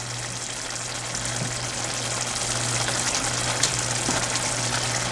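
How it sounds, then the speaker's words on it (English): A pot of mutton pepper curry boiling on a flame gives a steady, dense bubbling and sizzling hiss, close and continuous with a low hum underneath. "Here our mutton curry started boiling"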